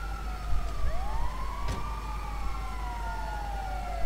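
An ambulance siren wails in GTA 5, rising and falling in long sweeping glides over steady traffic rumble, fairly close and continuous throughout.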